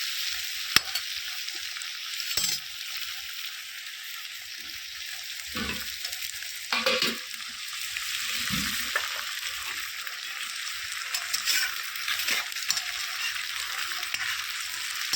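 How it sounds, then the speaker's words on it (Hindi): Spices frying in a pan, with a steady close sizzle and repeated scraping stirs at uneven intervals throughout, in a home kitchen with no talking. "मसाले भून गई है तब तक"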